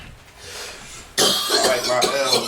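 A man coughs in a basement hangout, a quiet lead-in followed by a sudden loud burst of hacking coughs that repeats several times.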